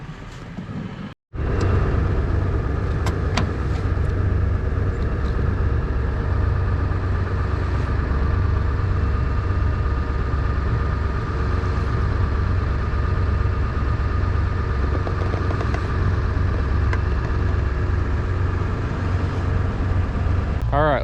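A truck engine idles on a Montana ranch, a steady close rumble that runs unbroken for about twenty seconds after a brief cut-out at the very start.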